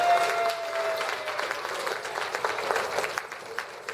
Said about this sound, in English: Let's give Tyrone a round of applause.